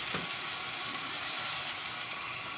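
Tomato juice hits onion and garlic frying in a pan, setting off a loud, steady sizzle that hisses on without pause and with no talk.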